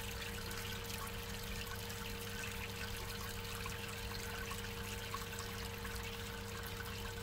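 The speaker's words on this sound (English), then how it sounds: "I'm sparging at 78 degrees, and even that's still a little fast." Wort trickles steadily out of the mash during sparging in home beer brewing, a soft, continuous liquid stream with a faint hum underneath and no voices.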